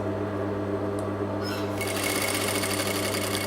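A sewing machine stitches a shaped unlined pocket onto fabric, running steadily and fairly close for the whole stretch with no pauses.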